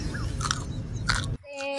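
A raw carrot is bitten and chewed up close, with a couple of crisp crunchy bites followed by wet chewing, then a sudden quieter ending.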